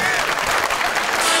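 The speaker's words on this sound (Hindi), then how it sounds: "एंजेलिना के लिए तालियां।" Studio audience applause during a Pakistani television talk show, a brief, steady burst of clapping filling the room with no voices over it.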